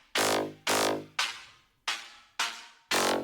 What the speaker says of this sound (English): So I create like a cloned version of the exact same crunch synth.